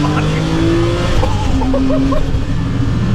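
A rebuilt Porsche 987 with a 4.1L turbo engine accelerates hard from inside the cabin, its engine note climbing steadily and loud throughout, with a passenger's voice briefly audible over it.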